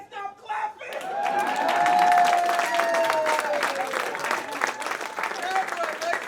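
After a brief spoken moment, an awards ceremony audience bursts into sustained applause that peaks quickly and keeps going as a dense patter, with cheers and voices over it.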